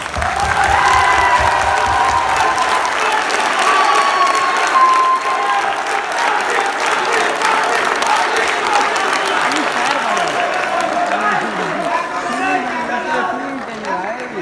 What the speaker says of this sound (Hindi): यार आपके लिए भरपूर ताली